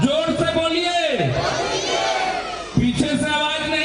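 A large crowd at an outdoor political rally shouts back loudly in unison, with swelling, overlapping voices and a sharp renewed burst near the end.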